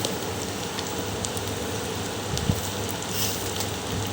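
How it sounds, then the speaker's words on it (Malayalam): Pointed gourd (parwal) pieces sizzle in hot oil, a steady dense crackle and hiss with no talk. "നമുക്ക് ഈ പീസാക്കി വെച്ചേക്കുന്ന പറവലിടാം."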